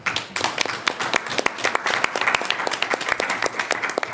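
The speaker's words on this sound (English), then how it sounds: "a round of applause for presenting the budget book" Audience applause at a town school committee meeting held jointly with the finance committee: a steady patter of many hands clapping, moderately distant and fairly quiet, with no talking.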